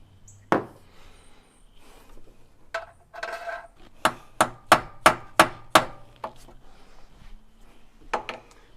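A hammer taps a screw extractor into a stuck fastener on a 1972 Porsche 914 restoration: a run of about six sharp, evenly spaced metallic strikes, preceded by a few scattered knocks and followed by two more, close and clear.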